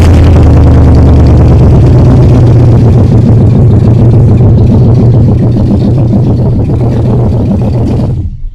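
A car engine, being worked on for a pedal issue, runs at a steady idle with a low, even throbbing rumble close by, then cuts off abruptly at the end.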